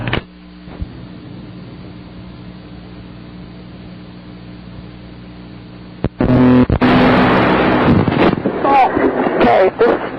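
Inside a moving car, a low road and engine drone with a hiss of wind runs steadily, then grows louder and rougher as children and adults start talking over it, captured on a tape recording.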